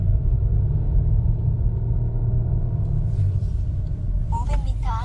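Heard from inside the cabin, a Volvo S60 Inscription sedan climbs uphill on a mountain road toward Danyang, Chungbuk, with a steady low engine and road drone and a few short electronic tones near the end.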